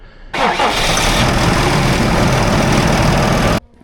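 A Fendt tractor fresh from repair fires up with a sudden loud diesel roar and runs steadily close by for about three seconds, then cuts off abruptly.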